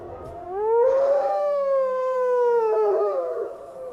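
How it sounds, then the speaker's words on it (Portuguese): A wolf gives one long, loud, clear howl in a forest, starting low, swelling to a sustained wavering tone, then sliding down and fading, alone with no talk. "Lá fora, outro uivo ecoou pela floresta."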